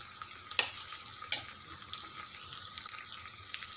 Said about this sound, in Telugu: పచ్చిమిర్చి దంచి ఉల్లిపాయ బాగా ఫ్రై అయ్యేదాకా ఫ్రై చేయాలి.